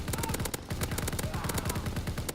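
Soldiers fire in a Call of Duty: World at War war mode battle, loud rapid automatic gunfire in fast regular bursts with a brief pause near 0.6 seconds, steady and close.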